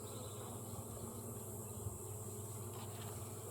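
A faint, steady hum comes from honeybees at an open hive while a frame is lifted. The buzzing stays low and even for the whole span, with no voices.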